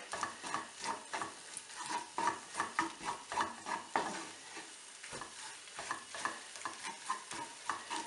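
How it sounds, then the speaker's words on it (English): Flour frying in a pan with fish pie filling, stirred with a utensil: repeated scraping strokes in an uneven rhythm over a soft background sizzle, close and moderately quiet, with occasional light clinks against the pan. "So I'm gonna fry it until the flour combines with all the rest very well."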